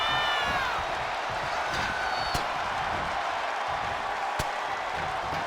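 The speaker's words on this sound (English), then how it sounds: "What a raucous crowd here tonight." A loud, raucous arena crowd cheers and roars without a break during a match in the WWE 2K25 wrestling video game, with a couple of sharp slam-like hits cutting through.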